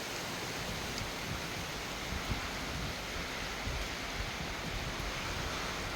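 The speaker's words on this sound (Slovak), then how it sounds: "zvuk tam bol taký, no proste taký pekný zvuk pršania" Heavy rain pours outdoors near trees as a storm builds, a dense, steady broadband roar filling the scene with no voices and no distinct drops standing out.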